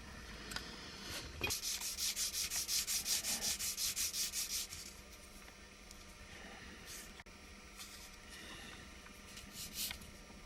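Sanding the window and door openings of a small diorama model building, a faint rhythmic back-and-forth rasp in a quick burst, then scattered softer scrubbing strokes against quiet room noise.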